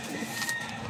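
Racing pigeons coo in a loft, a soft low murmuring burst close by, brief and with no talk over it.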